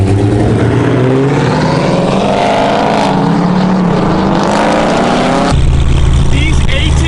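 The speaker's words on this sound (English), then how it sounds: "These ATS-Vs are so cool. It sounds like a V8 for some reason." A Cadillac ATS-V revs as it pulls up during a street meet, its engine giving a deep, V8-like growl that holds steadily with shifting pitch, then drops abruptly to a lower idle rumble near the end.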